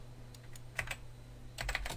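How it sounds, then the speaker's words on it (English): Fingers type on a computer keyboard in a scattered run of crisp, close keystrokes over a low steady hum, with a quicker cluster of taps near the end. "if we type"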